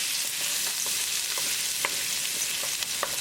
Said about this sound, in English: Add garlic. And we're going to cook them until the raw garlicky flavor is gone.